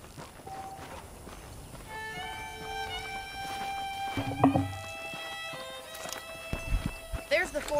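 Horse hooves clip-clop in the video game Red Dead Redemption, a soft walking rhythm under a man's speech and background music, with a louder thud of steps midway.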